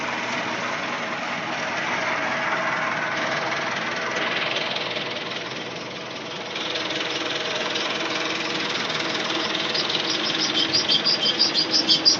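A tractor engine idles with a steady knocking chug, close by and continuous, with faint bird chirps in the background, while it runs to supply irrigation water.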